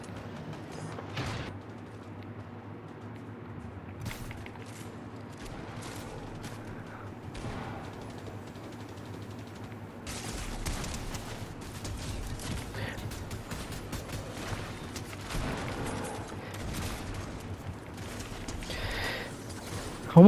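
Gunfire in the video game Fortnite: bursts of sharp shots come in clusters, sparse in the first half, then denser and more continuous after midway over a steady low game hum.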